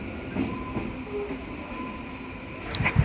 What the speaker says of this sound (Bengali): ট্রেনটা বাঁক নিচ্ছে।